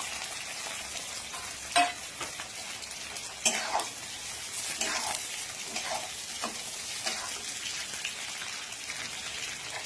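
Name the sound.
green chilli, garlic, capsicum and onion frying in oil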